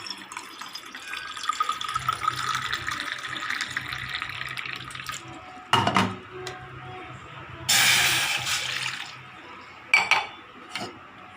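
Water is poured and splashes from a tap or jug into glasses for a home sciatica remedy drink, with intermittent running-water hiss, a few brief louder splashes and faint clinks, and no talking.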